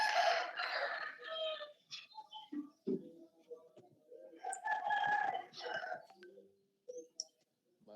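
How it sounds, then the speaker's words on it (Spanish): A rooster crows twice, the first call at the very start and a second one midway, fairly faint and distant-sounding, with scattered voices and small noises between the calls. "Se escuchó el gallo."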